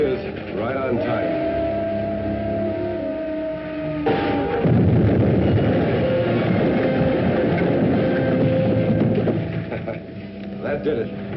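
A troop train passes on a railroad in an early-1950s sci-fi serial, a loud mechanical rumble with rhythmic clatter and whistle-like tones that swells midway and runs throughout.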